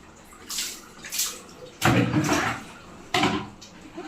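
Water splashes in bursts as a small bath is given, with several quick sloshes and pours of moderate loudness at irregular intervals.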